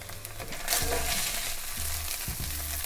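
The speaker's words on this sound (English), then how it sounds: "Give them a good flip here, and then add in some minced garlic and just do about another 2 minutes." Gnocchi and minced garlic fry in a hot pan with a steady, close sizzle throughout, broken by a few scraping stirs and a brief louder burst of spitting oil.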